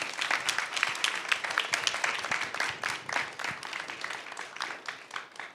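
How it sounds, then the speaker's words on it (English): A conference audience applauds its panelists, a moderately loud wash of many hands clapping with distinct individual claps, steady throughout and gradually easing toward the end. "Can I get a round of applause for them?"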